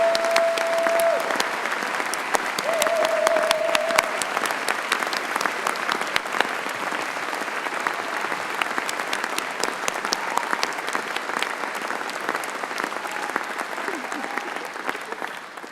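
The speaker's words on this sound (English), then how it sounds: "can you please join me in the biggest, massive round of applause" Graduation ceremony audience delivering a long, loud round of applause, many hands clapping steadily and evenly, with a brief voice or tone near the start.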